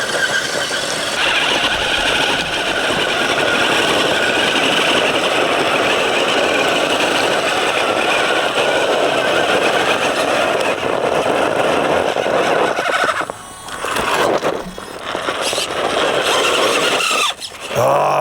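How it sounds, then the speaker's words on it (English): A Capo Ace 1 4x4 1/10-scale RC rock buggy climbs with its slipper clutch slipping, giving a sustained high whine over the electric motor hum, with a few brief drops and cut-outs toward the end. "Oh, my slipper clutch."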